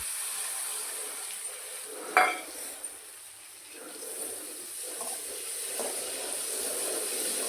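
Soaked masoor dal sizzles softly in hot oil in a pan, a steady low hiss broken by one sharp utensil clack and a few lighter stirring scrapes.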